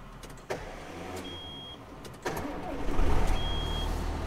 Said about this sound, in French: On redémarre le tracteur.